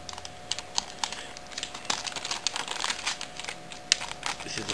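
Cardboard film pack box for a Polaroid pinhole camera handled up close: quiet dry crinkles, taps and scrapes of card and packaging in an irregular patter, with no talking.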